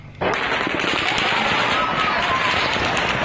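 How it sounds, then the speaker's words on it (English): Rapid rifle fire from a bump-stock-equipped rifle, as in the Las Vegas mass shooting, comes as a dense, loud, continuous crackling burst of shots that runs almost without a break. "These are rifle rounds, the type that proved so devastating in the mass killings in Nevada."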